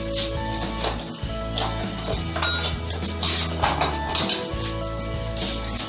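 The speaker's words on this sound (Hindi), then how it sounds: "इसे एकदम स्मूथ विस्क करना है आपको, एकदम क्रीमी हो जाना चाहिए कर्ड और शुगर का मिक्स।" Curd and sugar being whisked in a bowl, with a rapid, steady clatter of a utensil against the bowl, close by and continuous, with no speech.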